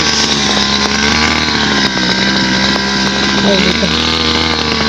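A grass cutter engine drones steadily and loudly outdoors in the early morning, with a brief spoken word over it.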